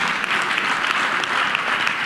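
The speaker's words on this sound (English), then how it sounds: "Yeah, you can clap." Steady, dense applause from an audience at a youth summit's interactive session, a continuous wash of many hands clapping at even loudness throughout.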